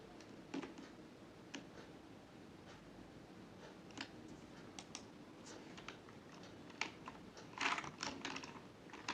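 Someone types a paragraph on a computer keyboard, giving quiet, irregular key clicks with a few brief louder bursts of tapping.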